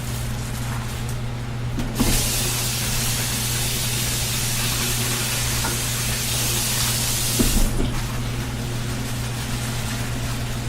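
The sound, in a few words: water rinsing bok choy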